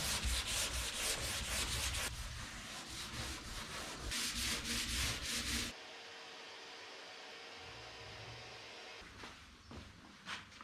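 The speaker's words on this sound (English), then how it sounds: "I just got to give this a bit of a scuff. It'll get a full sand during this process" Hand scuff-sanding on the body filler of a custom 1951 Chevy boot lid: loud, steady abrasive rubbing with rapid back-and-forth strokes for about six seconds, then a quieter hiss with a few faint scrapes.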